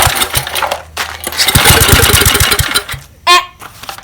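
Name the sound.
small engine trying to start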